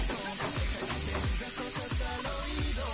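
Garlic paste stirred into hot sizzling butter in a pan, a constant bright hiss with rhythmic scraping strokes of the spoon repeating about twice a second, close and alone.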